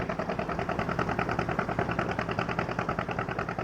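A narrowboat engine runs at very low revs, giving a steady, softly pulsing chug at a constant pace, moderately close and not loud, with no talk over it.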